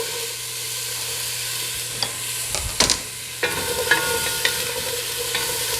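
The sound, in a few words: vegetables sizzling in hot oil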